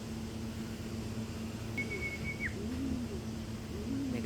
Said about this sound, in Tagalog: Kumuronda yung mga young bird.